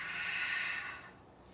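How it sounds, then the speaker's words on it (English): One long, soft exhale through the nose during a deep yoga stretch, close and quiet, fading out toward the end. "Take about 3 or 4 more deep breaths here."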